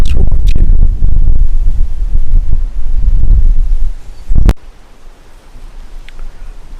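Strong gusty wind blows outdoors after a storm, buffeting the microphone with a loud, low roar for about four seconds before easing to a softer, steady rush.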